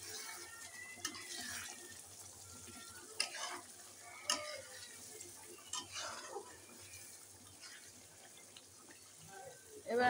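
Spiced masala with potatoes sizzles and fries in a pan while a spoon stirs it in a series of scraping clinks and taps, the steady sizzle running quietly underneath.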